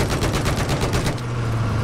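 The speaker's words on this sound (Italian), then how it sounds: "io sono guidatore e Alfranz sta sparando" Rapid automatic gunfire in the video game Battlefield 4, a fast regular burst of loud close shots lasting about a second, followed by a lingering engine drone.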